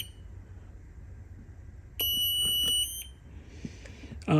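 A T5 sports timer sounds its early warning alarm, a loud, piercing electronic tone held for about a second, with a brief repeated beep pattern before quiet background hum returns.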